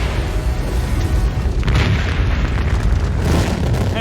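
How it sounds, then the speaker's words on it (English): A huge explosion at a blazing fire site releases a loud, deep, rumbling roar that fills the whole stretch without letting up, swelling slightly partway through. "The initial explosion is heard more than 200 miles away"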